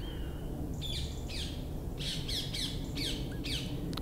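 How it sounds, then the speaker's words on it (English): Birds call and squawk repeatedly outdoors in short bursts, with a steady wind or ambient hiss underneath. "Listening to the birds"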